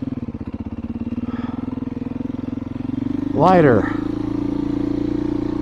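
A petrol dirt bike rolls slowly in first gear, its steady low engine putter close and continuous beneath someone talking, with a brief high squeak partway through.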